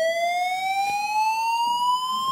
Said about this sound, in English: Oh, this fire alarm again.